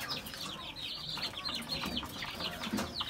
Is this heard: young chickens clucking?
yes